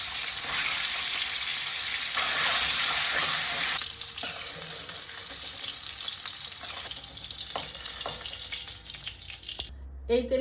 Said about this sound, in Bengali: গোটা জিরে, 1 চামচ ধনে, আর কয়েকটা গোলমরিচ, এগুলো সব হালকা আঁচে ভেজে নেব